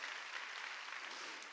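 A church congregation at a Wednesday worship service breaks into applause, a dense, even patter of many hands clapping together through a short burst.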